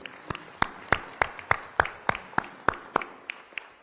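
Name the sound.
audience applause at summit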